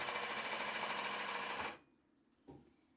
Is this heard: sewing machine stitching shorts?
yes